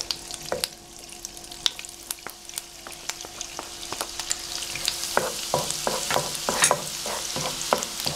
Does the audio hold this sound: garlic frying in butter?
yes